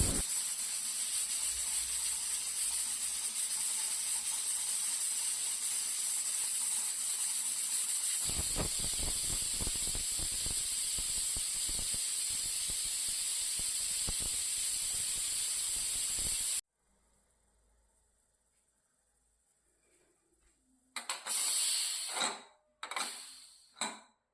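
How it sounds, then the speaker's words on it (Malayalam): A pressure cooker of chana biryani on the stove lets off steam in a steady, loud hiss for about sixteen seconds, then falls silent before a few sharp metallic clatters of the pot. "കുക്കറിൻ്റെ പ്രഷർ മുഴുവൻ പോയ ശേഷം മാത്രം കുക്കർ തുറന്നു നോക്കിയാൽ മതി"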